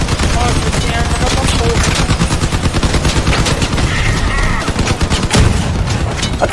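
Rapid, loud bursts of automatic gunfire from a shooting video game rattle almost without pause, dense and layered, with faint voices underneath.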